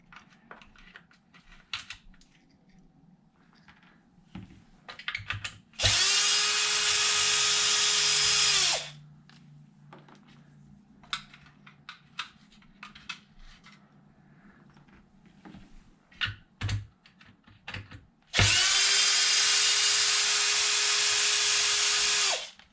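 A power drill whirs in two loud, sustained bursts, each about three seconds long, while unbolting the motor of an eight-year-old Traxxas Wide-Maxx RC truck. Quieter clicks and handling noises fill the gaps between the bursts.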